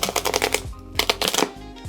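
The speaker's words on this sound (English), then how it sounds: "They have this really satisfying pull tab here." An Apple Card box's paper pull tab being torn open, a rapid series of crisp ripping clicks in two close bursts with a brief pause between, near and fairly loud with no talking.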